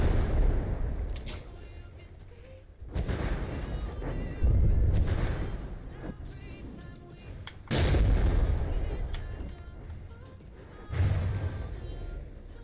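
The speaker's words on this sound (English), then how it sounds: "not that I like taking hits like this, but these missiles are pretty ineffective." In the ship-combat video game From The Depths, missiles strike a ship with several heavy booming impacts, each a loud burst that fades into a rumbling tail.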